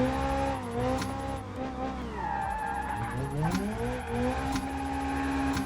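Racing video game car drifting while held in first gear, engine droning at high revs with wavering pitch and tire squeal, steady and loud throughout with no talk.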